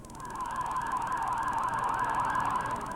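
A wailing ambulance siren rises and falls repeatedly, loud and steady, with no voices over it.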